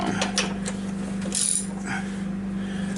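A ratchet tightens an exhaust bolt on a Yamaha G1 golf cart, with light clicking over a steady mechanical hum throughout.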